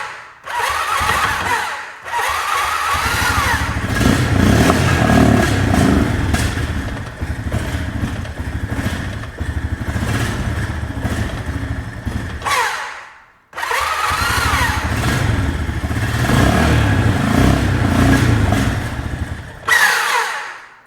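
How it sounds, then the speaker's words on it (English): Broken four-wheeler ATV engine revving hard and loud for long stretches, with a brief drop near the start, a sharp cut around the middle, then another sustained roaring rev. "Let's see if I can get it to rev up."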